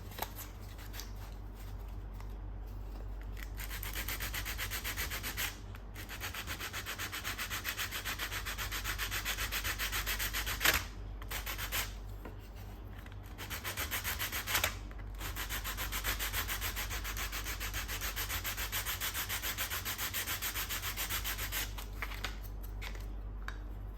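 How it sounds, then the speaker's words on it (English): Steady hand sanding of a Kill Team tabletop terrain piece, a close, continuous raspy rubbing that runs for the whole stretch, broken by a few brief pauses. "So we can try to sand it again."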